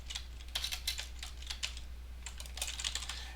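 Quick bursts of keystrokes on a computer keyboard, clicking in uneven clusters with brief pauses between, close and fairly quiet over a low steady hum.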